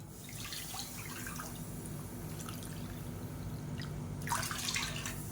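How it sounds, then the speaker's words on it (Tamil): Water pours into a cooking pan, a steady close splashing flow with brighter splashes near the end, no talk. "1 கப்புக்கு நல்லா 2 கப் அளவுக்கு தண்ணி சேர்த்துக்கலாம்."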